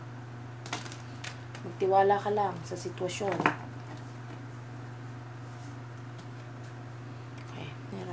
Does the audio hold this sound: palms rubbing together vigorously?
no